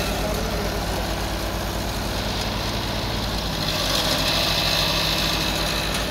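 A Mahindra 595 DI Turbo tractor engine idles close by in a field, a steady low diesel chug throughout with no talk over it.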